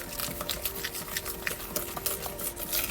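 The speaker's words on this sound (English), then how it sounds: "mix this up" Milk being stirred into a one-pot weeknight meal, with soft rhythmic wet scraping and sloshing close by and no voices.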